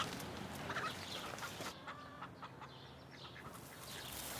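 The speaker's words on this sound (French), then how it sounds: "Il y a même des poules là-bas au fond." Chickens clucking in a permaculture garden, faint and somewhat distant amid outdoor ambience, with scattered soft calls over a few seconds.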